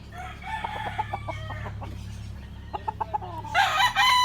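A rooster crows close by in a few drawn-out calls, with clucking and short bursts from other fowl between them, ending in a louder, shriller cry.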